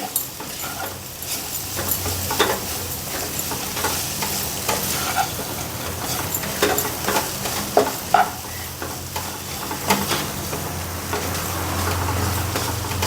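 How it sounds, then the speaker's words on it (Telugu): Moong dal being stirred into ponnaganti greens frying in a pan, with steady scraping and stirring strokes over a continuous close sizzle, no talking. "పెసరపప్పు వేసి బాగా ఇట్లా కలిదిప్పి"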